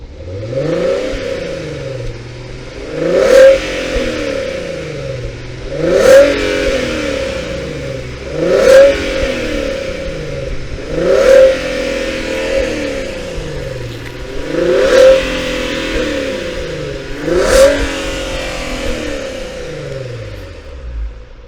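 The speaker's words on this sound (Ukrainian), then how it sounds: "Пропоную і вам послухати звук цього вихлопа." A Volkswagen Passat 3.6 V6 engine revs repeatedly, rising and falling six times in a steady rhythm, with a throaty exhaust note and a sharp crackle at each peak.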